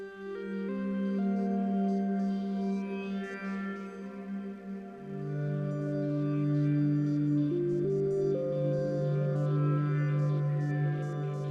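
Vital wavetable synth patch with sidechain modulation routed to pitch, playing sustained tones that step between notes with shifting overtones, steady and fairly quiet, no voices.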